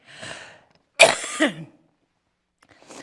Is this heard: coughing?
yes